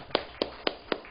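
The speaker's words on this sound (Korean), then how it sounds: "우리 이분들 정말 박수로 축복 한번 하겠습니다" A church congregation claps in blessing for members who finished reading the Bible, heard as four separate, evenly spaced sharp claps about a quarter second apart, moderately loud with no talking.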